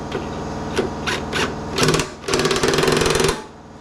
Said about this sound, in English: I've tightened it back down with this impact